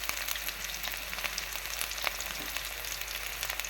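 Garlic, curry leaves and onion frying with turmeric in a pan: a steady, close sizzle with small crackles throughout and no voices.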